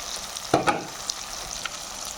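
Chicken meat frying in a pan for a pepper curry, a steady low sizzle broken by two sharp utensil clinks and a few light stirring taps, close by, with no one speaking.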